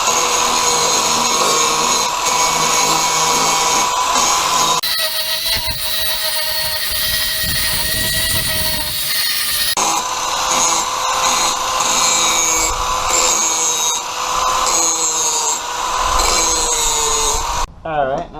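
A $10 Harbor Freight angle grinder with a grinding disc sharpens an axe head, a loud, steady, high-pitched whine with harsh grinding that shifts in tone as the disc works the blade, close and continuous throughout.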